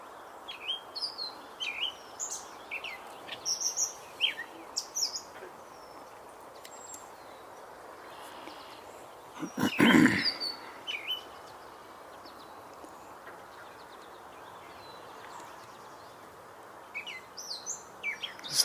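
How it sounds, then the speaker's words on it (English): A wood thrush sings outdoors with fluting phrases among other distant birdsong, faint and intermittent over a steady background hush, with one loud nearby rustle partway through. "I believe I'm hearing a wood thrush also."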